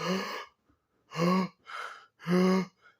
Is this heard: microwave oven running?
no